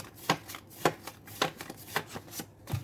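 Tarot cards being shuffled close by in a quick, uneven rhythm of soft riffling slaps, about ten bursts in under three seconds, with nothing else heard.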